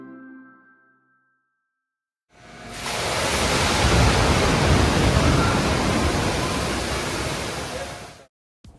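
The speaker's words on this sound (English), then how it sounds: "this is how they make the massive waves on the top of this dome" Wave machine churning up massive waves atop the whale shark tank dome at Georgia Aquarium, a loud, sustained roaring rush of water that surges in suddenly after a brief quiet and holds steady for several seconds before cutting off.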